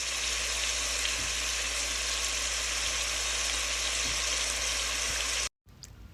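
Food sizzles and fries steadily in a pan while a home cook makes a simple family dinner, a dense, even crackle filling the whole stretch before cutting off abruptly near the end.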